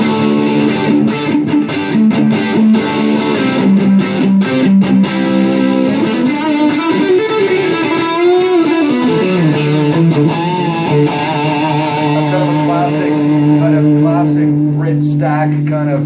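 Electric guitar played through a solid-state amp set to a Marshall-style stack model, giving sustained distorted chords and bends that ring steadily and loud, alone with no talk.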